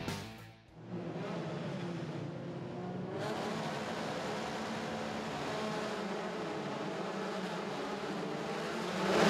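Formula 4 race cars launching at the start of a wet race at Sepang, a distant, steady roar of many engines with spray-like hiss that swells after a brief lull.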